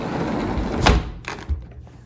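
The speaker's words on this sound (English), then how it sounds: "We'll close the door." A sliding patio glass door is pushed shut, giving a rolling scrape that ends in a firm thunk and a smaller knock after it, all set against steady background noise.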